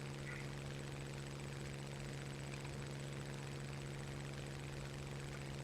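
A War Thunder aircraft engine drones steadily and loud, pushed hard enough to overheat, a constant propeller hum running unbroken through the whole stretch with no talk over it.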